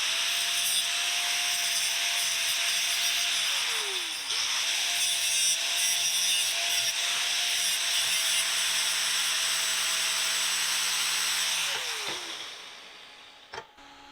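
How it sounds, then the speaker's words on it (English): A cut-off wheel grinds continuously as tack welds are feathered on 2-inch schedule 80 steel pipe coupons, a loud close whine with pitch dips under load that winds down near the end. "I'm just going to use a cut-off wheel, and I'm going to go ahead and feather these tacks"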